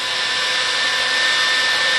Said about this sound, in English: We're going to heat it up a little bit with a hairdryer.